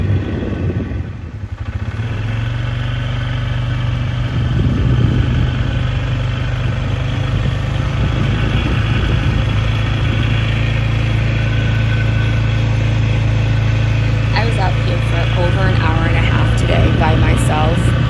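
A motorboat engine on a sunset cruise on Lake George in the Adirondacks: a steady, close, low droning hum that lasts the whole time, with a person talking over it.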